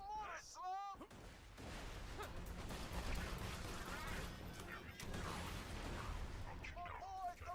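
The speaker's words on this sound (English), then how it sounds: "My boy throws mortar" Mortar fire in a video game, a sustained roar of booming blasts and crashing impacts at moderate distance, with brief voices at the start and end.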